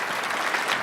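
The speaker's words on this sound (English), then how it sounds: "Let's give them a big, big round of applause here." Audience applause fills a conference room at the Greater Washington Society of CPAs annual non-profit symposium: dense, steady clapping from many hands, close and even throughout with no voices over it.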